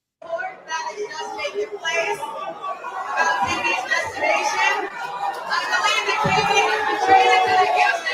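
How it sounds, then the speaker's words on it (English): Loud basketball arena crowd, a dense roar of chatter and voices that swells steadily and stays close and continuous throughout. "The crowd so damn loud."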